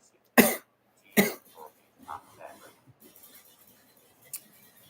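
Two sharp coughs close to the microphone, followed by smaller throaty sounds and a faint click in a quiet room.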